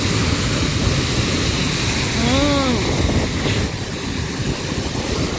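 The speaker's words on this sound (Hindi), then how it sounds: "ये देखे जन्नत आबशार, हम इसके पास आ गए" The Jannat Abshar waterfall in high mountains pours with a dense, steady roar of rushing water. A voice briefly speaks over it.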